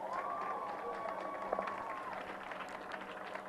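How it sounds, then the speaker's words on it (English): Children applaud together at a public school renovation flag-off event, a steady wash of clapping and crowd noise with a thin whistle-like tone over it. "Please, children, give yourselves a round of applause."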